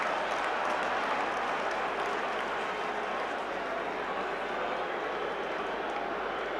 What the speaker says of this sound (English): Crowd are booing the referee